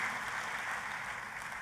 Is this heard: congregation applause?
yes